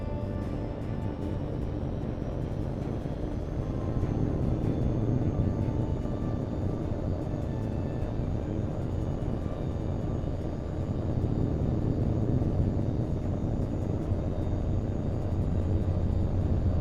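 A jet aircraft takes off in the combat flight game H.A.W.X. 2, a steady loud engine roar that swells slightly partway through, with no one talking.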